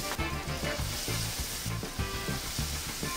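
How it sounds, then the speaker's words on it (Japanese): Whole kibinago, silver-stripe round herring with heads and innards left in, deep-fry in 170°C oil with a dense, continuous sizzle and crackle, close and steady. "170度の油の中へ。"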